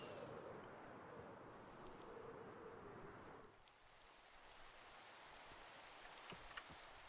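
Constant hiss of rainfall in Minecraft with a low rumble that drops away midway, leaving a thinner patter of rain with faint scattered drops.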